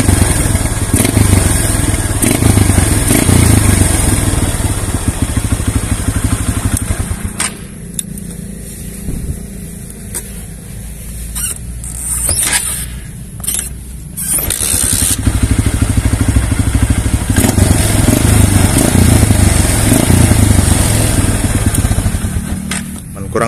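Yamaha Scorpio Z motorcycle fitted with a modified Megapro single exhaust, its engine running loudly and steadily close by, easing off briefly in the middle before the throaty note builds again.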